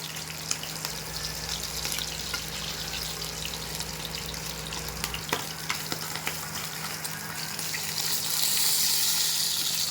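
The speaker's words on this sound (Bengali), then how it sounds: "এইখানে মাছ ভাজা হচ্ছে, আর এইখানে মাছ ভাজা হয়ে গেছে, আর এইখানে মাছ ভাজা হচ্ছে" Fish fry in hot oil with a dense, steady sizzle close by, crackling continuously under a low kitchen hum that drops away partway through as the hiss grows brighter toward the end.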